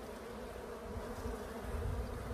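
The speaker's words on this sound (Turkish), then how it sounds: "Arılar bir şekilde nasiplerindeki poleni kovana taşımaya devam ediyorlar." Honey bees buzzing at a hive during pollen collection, a soft, steady hum of many wings close by, continuous and unbroken, with no voices.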